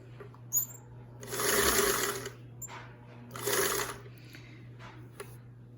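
A Singer 328k sewing machine stitching in two steady whirring runs of about a second each, close and clear, separated by quiet pauses with small mechanical clicks and a low background hum.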